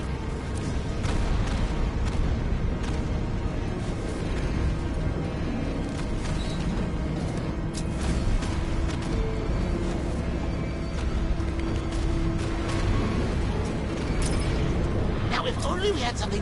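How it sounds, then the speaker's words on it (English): An explosion in a Batman video game, a sustained loud rumbling blast with dense low-end roar and scattered crackling debris over its whole length. "Warning, explosion imminent."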